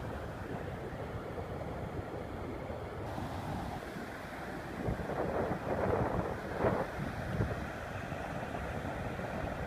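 Surf rolls onto a beach under gusting wind, a continuous low wash of waves with wind buffeting the microphone and a slightly stronger swell midway, no voices.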